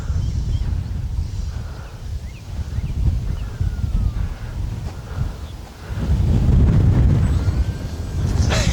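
Wind gusting across an RC plane flying field, a steady low rumble buffeting the microphone that swells louder toward the end, with no voices.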